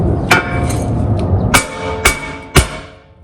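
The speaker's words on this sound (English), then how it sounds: "you can take an actual hammer and you can hit it right here instead of using the actual rotor" Hammer striking the wheel hub of a 2018-2020 Honda Accord to free a brake rotor: four sharp metallic clanks, irregularly spaced, close and loud with ringing decay.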